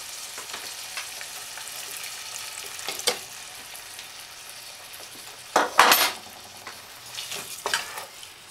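Water poured into a pan of spices for Moroccan liver in sauce, with a soft steady sizzle and stirring, plus a few sharp utensil clinks and a louder splashing burst partway through.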